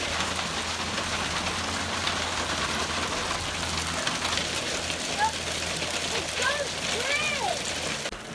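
Hail pelts a homestead garden in a steady, dense rattling patter, close and constant throughout, with people speaking over it and a few faint bird calls near the end.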